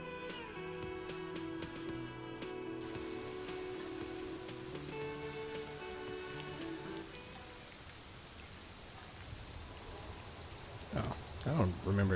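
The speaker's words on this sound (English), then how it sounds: "Oh, I don't remember it raining earlier." Rain in Disco Elysium patters as a steady broadband hiss that takes over from a tonal musical backdrop partway through, continuing at a moderate level with a few louder splashy bursts near the end.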